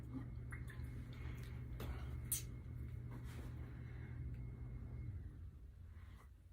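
Slow, irregular water drips fall from a leaking DAB E.Sybox Mini 3 water pump over a steady low mechanical rumble, with a few brighter plinks standing out.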